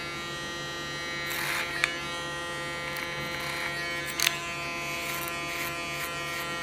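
An electric hair clipper buzzes steadily and close while cutting a woman's hair in a salon, a constant whirring hum with a few brief snips and clicks.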